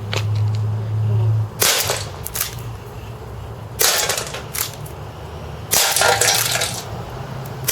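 Marushin Raging Bull airsoft revolver firing BBs into a can, three loud sharp shots spaced about two seconds apart, each with a metallic ring, over a low background hum.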